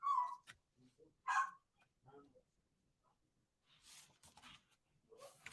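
A pet dog in a home gives a few short yips and whimpers in scattered bursts, some near and sharp, others fainter, with quiet gaps between.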